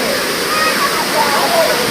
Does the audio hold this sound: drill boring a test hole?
no